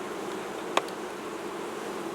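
Honey bees buzz at a hive in a steady, dense drone that holds evenly throughout, broken once by a brief sharp click near the start.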